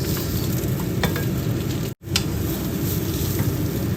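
Garlic sizzles and fries steadily in olive oil in a pan, a loud, continuous close crackle with light stirring scrapes, broken by one very brief dropout midway.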